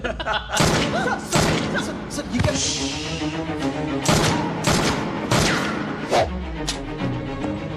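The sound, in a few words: gunfire in a Hindi dubbed movie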